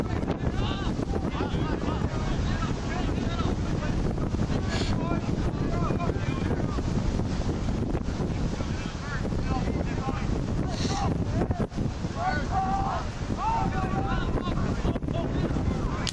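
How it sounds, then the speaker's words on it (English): Strong wind gusts over a sailing boat, buffeting the microphone in a constant rough roar that dips briefly now and then, with faint voices under it. "Wind really pushing now."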